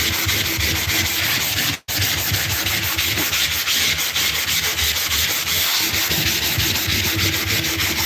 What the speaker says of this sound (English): if you don't want to buy primer, you don't have a lot of areas to cover, then I would say get some sandpaper like this